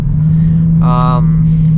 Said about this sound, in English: so then the exhaust just stops rattling